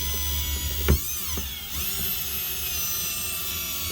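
A WRD Orange Bat drill runs at about three-quarter trigger, whirring at a steady pitch, briefly dipping as it bogs down under load, then spinning back up and holding a constant whine.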